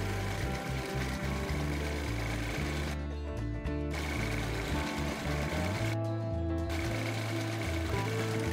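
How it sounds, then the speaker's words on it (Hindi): Sewing machine stitching two stacked pieces of fabric along their edges for a butterfly shape, a steady close mechanical whir running continuously with two brief pauses where the needle stops. "एक दूसरे पर रख के चारों साइड से सिलाई कर लेंगे।"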